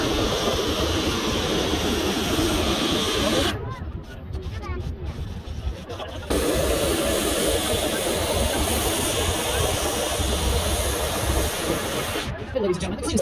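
An antique steam locomotive on the Roaring Camp Railroad in the redwood forest near Santa Cruz sends out a loud, steady rushing hiss of steam that runs almost the whole time, dipping briefly twice before surging back.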